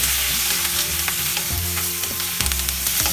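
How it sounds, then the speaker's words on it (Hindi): Vegetables half-frying in a pan over medium-high heat, lightly salted, giving a loud, continuous, dense sizzle with occasional clicks of a utensil, and no voices. "वेजिटेबल्स हमें हाफ फ्राई करना है"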